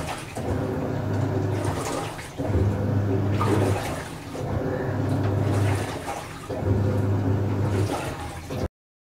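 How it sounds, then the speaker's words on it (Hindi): A washing machine churns clothes in detergent water, its drum sloshing and rumbling in repeated cycles of about two seconds, each surge swelling then easing, close and fairly loud with no talk. "बहुत अच्छे से कपड़े जो हैं वो वॉश हो रहे हैं।"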